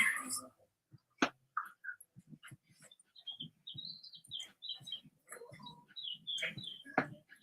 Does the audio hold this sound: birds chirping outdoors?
yes